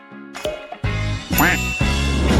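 A duck quacks several times in short, nasal bursts, mixed with a few other brief sounds and a faint jingle, with no speech.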